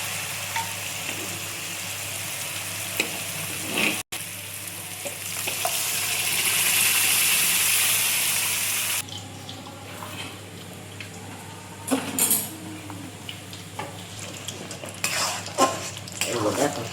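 Chana dal fries in a hot spice masala for a Bengali dish, sizzling steadily up close. A utensil scrapes and stirs against the pan throughout, and the sizzle drops back partway through.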